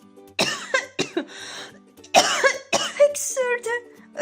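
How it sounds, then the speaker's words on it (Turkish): A run of harsh, repeated coughs close by, bursts tumbling one after another with brief gasps between them, ending in a strained, wheezy breath. "öksürükler böyle birbirini kovaladı"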